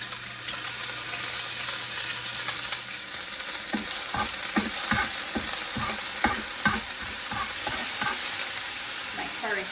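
Green seasoning frying in a teaspoon of oil in a heated kahari, a steady bright sizzle with a run of rhythmic stirring scrapes close by, and no speech.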